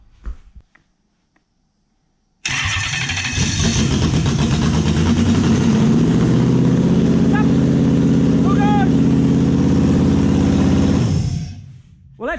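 Toyota 1UZ-FE V8 running on only two cylinders cranks and catches, then holds a loud, rough, uneven idle for about nine seconds before cutting out, with faint squeaks over it.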